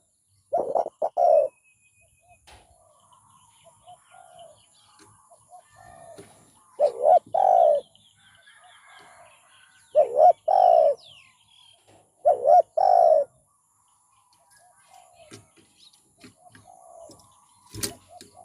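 A decoy spotted dove, used to lure wild doves in Thai bird trapping, gives four clear bursts of rhythmic cooing spaced several seconds apart. Faint chirps and quiet outdoor sounds fill the gaps.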